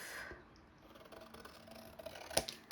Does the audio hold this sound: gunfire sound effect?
no